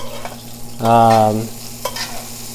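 A bone-in ribeye steak being butter-basted in a hot pan gives a short, loud burst of sizzling and spattering that lasts about half a second. Quieter crackle continues before and after it, and no one speaks.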